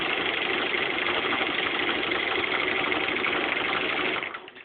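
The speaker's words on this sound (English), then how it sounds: "I really only sew through one of those squares at a time." A sewing machine runs steadily at speed while quilting a T-shirt quilt through one marked square, giving a continuous, even mechanical whir for several seconds before it slows and stops.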